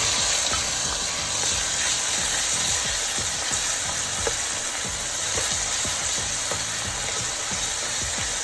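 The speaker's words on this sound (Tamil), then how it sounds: "தக்காளி கொஞ்சம் நல்லா மசிகிற வரைக்கும் நல்லா வதக்கிக்கோங்க." Onion and tomato sautéing in a pan for palak paneer gravy, a steady broadband sizzle with frequent soft scraping stir strokes, continuous and fairly close, with no voices.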